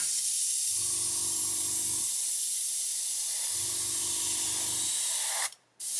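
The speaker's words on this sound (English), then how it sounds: "It really is struggling to spray it" Steady hiss from a Gaahleri GHAC-98D airbrush struggling with thick paint, two sputtering bursts of spray, each lasting about a second, ending in a sharp blast of air.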